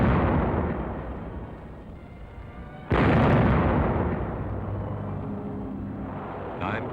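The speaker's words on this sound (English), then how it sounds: "camouflaged 105 howitzers on gun carriages opened up with a bombardment of warning." Loud, dense rumbling bombardment from WWII 105 howitzers on gun carriages at Cassino, a continuous roar of blasts with a sharp new burst of fire midway, old film soundtrack quality.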